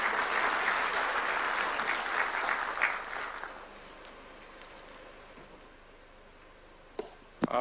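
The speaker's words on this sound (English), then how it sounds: "Can we clap for Dr. James Mwangi?" An audience at a Kenyan political gathering in Murang'a applauds Dr. James Mwangi with loud, dense clapping that fades after a few seconds into a quieter hall, ending with a couple of sharp knocks.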